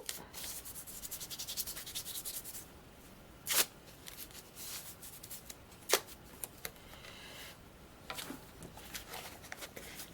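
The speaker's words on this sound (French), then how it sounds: "je vais mettre du scotch aussi en haut" Sticky tape rubbed and pressed onto a paper birthday card, a soft continuous scuffing and rubbing with a few sharper crackles and tears, close and fairly quiet, no voices.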